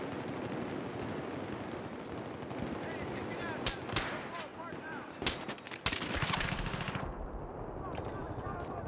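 Gunfight in Battlefield 3 on the Metro map: continuous distant automatic rifle fire rattles under a dense background, with several louder close bursts and cracks in the middle, then a brief shift in the ambience near the end.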